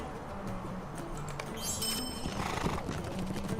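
A horse in the LOTRO video game whinnies sharply midway and then sets off at a gallop, hooves clopping in a quick steady rhythm, close and clear against a soft background bed.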